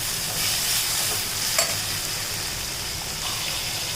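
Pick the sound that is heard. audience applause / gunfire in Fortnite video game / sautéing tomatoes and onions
sautéing tomatoes and onions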